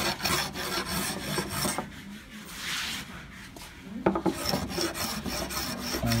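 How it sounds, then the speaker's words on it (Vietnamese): Someone hand-planes a wooden picture frame as a final finishing step: rhythmic rasping strokes, loud and close, with a brief lull partway through. "bào để làm đẹp cho cái khung"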